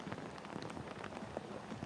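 Steady rain falls on a football game between UConn and Rice, a soft continuous patter with faint scattered drops and no voices over it.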